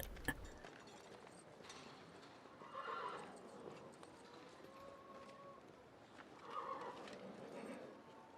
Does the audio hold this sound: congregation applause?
no